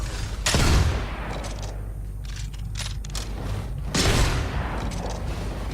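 Sniper rifle shots in Fortnite Save The World, fired at armored enemies and a smasher: two loud, heavy booming blasts several seconds apart, each trailing off into game noise.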